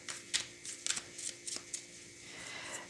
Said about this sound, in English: I will be sticking with the horizontal shuffle